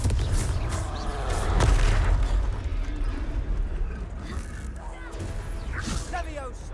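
A Confringo blasting spell in the Hogwarts Legacy game sets off a loud booming explosion with a sustained rumbling blast and debris crackle, heavy at the start and then fading into continued combat noise.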